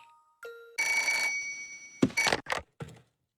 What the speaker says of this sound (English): Now we're answering a phone, but no one's even talking.